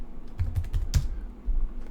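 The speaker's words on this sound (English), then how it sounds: "I should read what I'm typing, right?" Rapid typing on a computer keyboard, a quick cluster of close, crisp key clicks with a brief pause and a couple more taps.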